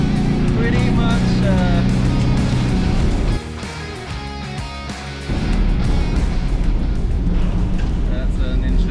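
A Foton View C2 2.0T panel van and a Toyota Hiace panel van race, their engines roaring loudly under continuous wind and road noise, with a brief dip in the middle, while a voice talks over them.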